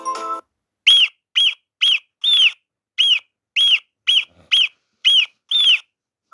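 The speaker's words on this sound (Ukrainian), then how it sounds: "Ось так кричить бабак." A marmot gives a series of about ten sharp, high-pitched whistling calls, evenly spaced with short silences between them, loud and clear.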